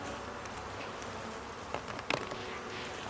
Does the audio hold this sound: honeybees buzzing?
yes